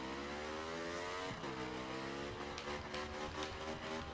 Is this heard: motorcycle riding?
yes